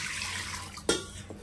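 Lentils are rinsed with water in a pressure cooker, a faint background trickle followed by a brief sloshing splash.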